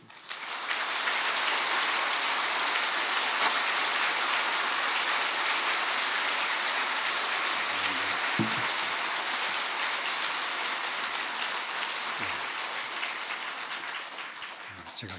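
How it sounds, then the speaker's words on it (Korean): Sustained loud applause from a church congregation at an evening revival meeting, dense steady clapping filling the whole stretch and tapering slightly toward the end. "우리 성도들이 창세 이후로 제일 큰 박수로 맞아주시기 바랍니다."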